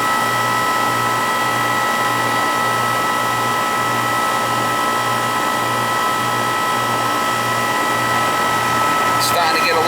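A Goodman AC condenser unit runs steadily up close, a loud continuous hum and fan whir with a pulsing low drone, ending in a brief rattle.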